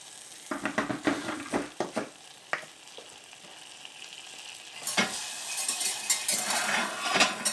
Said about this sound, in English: now we're going to go ahead and whisk this around, and we're going to cook the flour a little bit with the butter